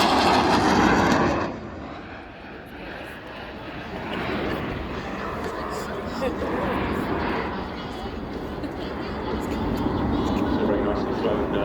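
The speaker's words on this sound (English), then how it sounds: "Welcome altitude for the F-16 to go through its paces today, rather than giving us a flat display." An F-16 fighter jet from 727 Fighter Squadron in a flying display at an airshow, loud engine roar sweeping overhead then holding as a steady distant rumble, with a commentator talking over it.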